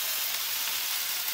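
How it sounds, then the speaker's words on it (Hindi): Tomatoes sizzle in a hot pan while being stirred, a close, steady hissing fry with no voices. "इतने लेवल तक ही हमको टोमेटोस को स्टर करना है"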